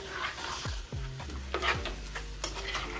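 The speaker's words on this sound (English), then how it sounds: "Keep stirring." Oxtail browning in a pot is stirred with a utensil. The pan sizzles steadily, and several distinct scraping strokes sound close and alone.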